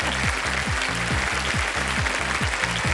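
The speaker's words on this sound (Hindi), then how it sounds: "क्योंकि उत्तर आने से पहले ही ताली बज गई।" Studio audience applause on the Indian TV quiz show Kaun Banega Crorepati, a steady broadband wash of clapping running the full length, over a looping rhythmic music bed with repeating low bass pulses.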